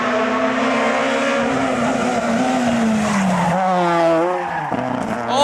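A rally car, a Porsche, races on a dirt stage, its engine roaring loud and close with rising and falling revs and gear changes, tyres skidding and scrabbling on loose surface throughout.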